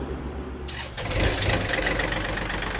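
A Kubota L4018 4WD tractor's diesel engine cranks briefly, then starts easily and settles into a steady, rumbling idle close by.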